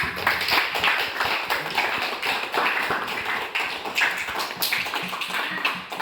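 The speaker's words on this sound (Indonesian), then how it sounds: "Beri tepuk tangan untuk kita semua" Classroom group clapping together after a lesson, a dense patter of close hand claps, loud and continuous, with no talking.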